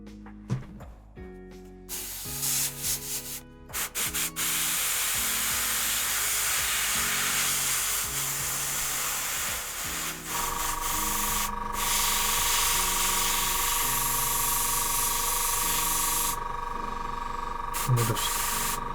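Surface primer hisses from a spray can onto a miniature model base in a long, continuous close-up burst broken by short pauses, under a soft electronic hum.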